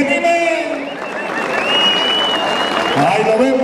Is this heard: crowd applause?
yes